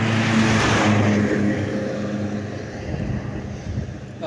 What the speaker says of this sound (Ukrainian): Їду додому. Зараз буде трохи шумно.